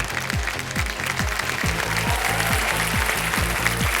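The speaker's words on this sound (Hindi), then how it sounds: "ताली बजाने की" Studio audience applause on a TV quiz show set, a steady, loud wash of many clapping hands with a low rhythmic beat pulsing underneath throughout.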